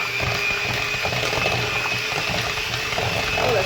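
A kitchen blender whirs steadily, mixing sweet potato pie filling with a tablespoon of nutmeg, a continuous churning motor drone with faint mechanical rattling and no talk.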